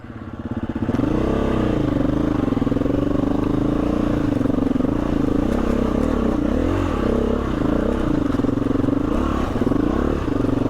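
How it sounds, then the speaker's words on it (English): A lightweight motorcycle rides over stones on a long, rough, technical trail. Its engine drones loud and steady throughout, with clattering and scraping from the rocky ground underneath. "the lightness of this bike just makes handling stones like that quite easy"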